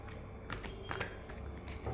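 Tarot cards being shuffled by hand, a few quick soft riffling bursts at close range, quiet and without speech.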